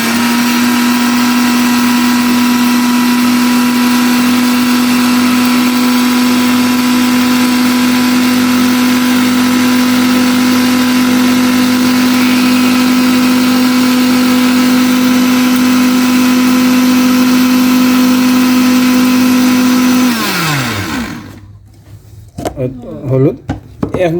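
A blender grinds turmeric into powder, a loud, steady motor whine running continuously for about twenty seconds before it winds down and stops, followed by a few clatters and handling noises.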